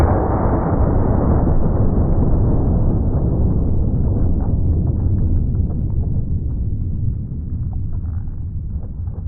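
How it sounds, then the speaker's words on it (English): A .460 Magnum revolver with an 8 3/8 inch barrel firing Underwood 300 grain jacketed hollow points outdoors, a loud dense roar that rumbles and slowly fades over several seconds. "460 Magnum. This is an 8 3/8 inch barrel, very big, powerful handgun"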